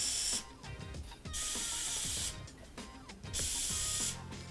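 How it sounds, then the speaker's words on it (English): Three long bursts of Lysol disinfectant spray hiss close by onto a mushroom grow bag's inoculation port, separated by short pauses filled with quiet handling noise. "The first step is to spray the inoculation port with Lysol."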